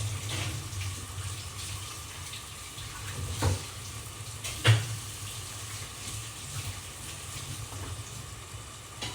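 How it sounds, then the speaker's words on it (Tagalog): Tap water runs steadily with a low hiss, broken by a couple of brief clinks and knocks of dishes being rinsed. "hinuhugasan ko talaga yung mga pinggan, yung mga ginagamit ko para hindi masyadong makalat"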